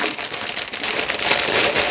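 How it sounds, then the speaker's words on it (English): Plastic wrapping being pulled off a leather crafting kit during an unboxing: continuous close crinkling and rustling with no voices. "Let me get rid of the plastic right away"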